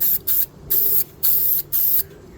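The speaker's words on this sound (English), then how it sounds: "I'll give it just a bit of a spray from a distance." A rattle can of green rust guard paint sprays in five short bursts of loud hiss, each about a third of a second long, with brief quiet gaps between them.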